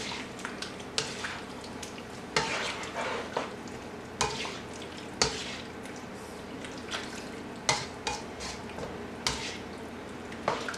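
Precooked broccoli and beef warm in a pan, giving a soft, steady low sizzle with regular light spatula scrapes and taps and a few faint drips, close and unaccompanied by speech.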